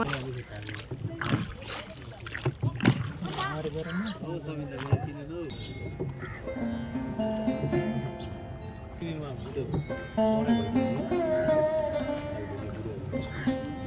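Boat ride on the lake around the Tal Barahi temple in Pokhara, Nepal, with soft water movement and paddling under people talking nearby, plus scattered background voices.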